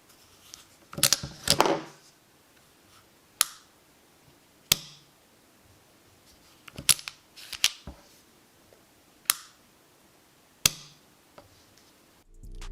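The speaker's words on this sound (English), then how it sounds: "The trigger on this gun surprised me. It's crisp, clean, and just, well, hear it." A Sig P365 pistol's trigger is pulled in a quiet room, giving a series of crisp, sharp clicks, some single and some in quick doubles, spaced a second or two apart, with no talking.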